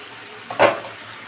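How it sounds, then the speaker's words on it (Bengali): Meat sautéing in a pan, heard as one brief sizzling stir that swells and fades within a second against a quiet kitchen background. "কষছে মাংস"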